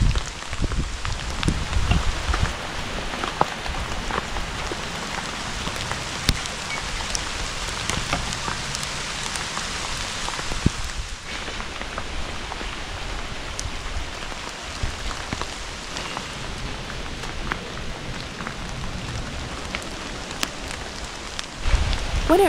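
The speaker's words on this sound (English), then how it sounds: "Yes, the rain has returned." Steady rainfall pours down continuously in a rainforest, a dense hiss of drops with scattered louder patters, no voices, even and immersive throughout.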